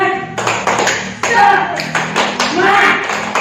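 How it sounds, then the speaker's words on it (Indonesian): A classroom group claps out a quick rhythmic pattern of sharp hand claps, close and loud, with voices chanting along between the beats. "Ibu akan kasih contoh tentang tepuk semangat"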